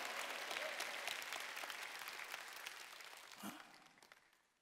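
A Korean church congregation at a Wednesday worship service claps in a broad, sustained wash of many hands, fairly faint and distant, gradually tapering off toward the end with a brief low murmur near the close.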